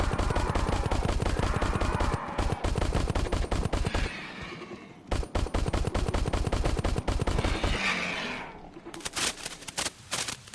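Rapid bursts of automatic gunfire from the Crashland VR shooter game, loud and close, with short pauses between volleys and a brief whooshing effect before a final spray.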